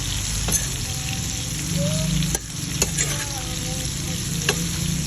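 Bitter gourd with five beaten eggs frying in a pan for ginisang ampalaya, a loud continuous close sizzle with several sharp spatula knocks and scrapes against the pan, no speech.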